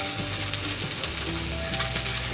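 Cod fillets sizzling in a pan with butter, crushed lemongrass and garlic as they are basted, a steady close crackle over quiet background music.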